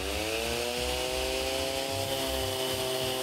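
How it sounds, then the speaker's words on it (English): A random orbital sander runs on wood as it is moved steadily back and forth, a close, loud, constant motor whine with no pauses or voices. "And then I'll just start sanding, keep it nice and smooth, keep it nice and steady, flat, and go backwards and forwards."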